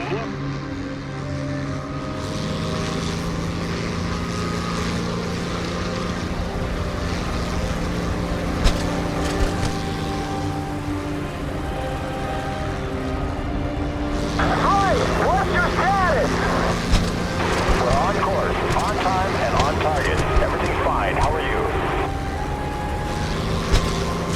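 Aircraft engine running at War Emergency Power in the IL-2 Sturmovik: Birds of Prey flight game on Xbox 360, a steady loud propeller drone sustained throughout, rising in intensity partway through, with a voice speaking over it.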